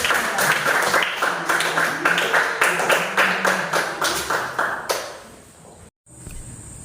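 A class claps in quick rhythmic unison after a student presentation, close and loud for about five seconds, then trails off into faint room noise.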